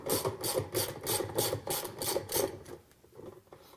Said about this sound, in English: now that you have your socket with your extensions and your ratchet, just drop it right down in onto the bolt itself